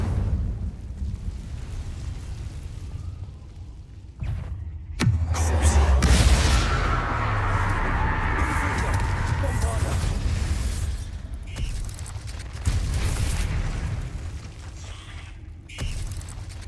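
The Incendio fire spell cast in Hogwarts Legacy lands as a sudden burst that swells into a sustained, roaring blaze, amid continuous game combat noise and voices.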